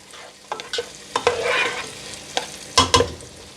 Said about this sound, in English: we're going to saute that until our onions are translucent and tender